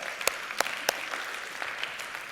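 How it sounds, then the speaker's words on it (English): Light, sparse clapping at a keynote session on social networks and moral competence, a few sharp individual claps standing out over soft, distant applause. "Give an applause for yourself"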